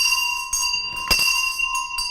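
A bell rung on a radio show about a ministerial reshuffle, struck in a few distinct rings with long bright ringing tones sustained across the whole stretch, fairly loud and close with no talk.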